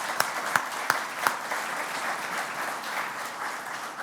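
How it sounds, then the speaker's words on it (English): Audience members at an autumn conference session clap steadily in fairly quiet, moderately dense applause, with a few sharp, close claps standing out near the start. "So I'm just going to pause because we have to clap at this point."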